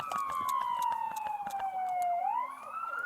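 Ambulance siren wailing loud and close on the road, a steady descending tone that sweeps back upward near the end, with rhythmic clicks and engine noise beneath.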